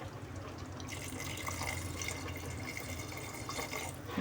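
Heated water poured into a pot of artichoke and potato stew, a steady liquid pour and trickle running for several seconds under a constant kitchen hum.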